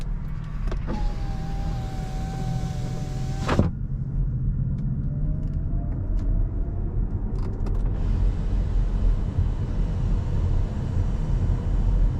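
Cupra Formentor 1.4 e-hybrid heard from inside the cabin: a brief whirring motor whine, like a power window, opens before a steady low road-and-engine rumble carries on while driving.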